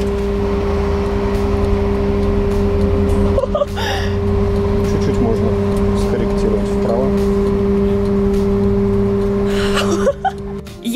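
An 11-ton trolleybus in shunting mode creeps forward with a steady electric motor whine and low hum under close conversation, with a few clunks and rattles from the cabin.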